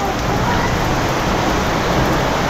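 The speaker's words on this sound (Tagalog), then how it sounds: "Tuloy-tuloy ang bagsak na ulan, no." Steady rain falls continuously, a loud, even wash of broadband hiss from start to finish, with no distinct drops or gusts standing out and no voices.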